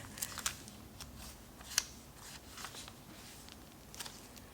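Scissors snip the white frame borders off Instax instant photos, a few sharp, close cuts scattered irregularly with quiet pauses and faint rustling between them.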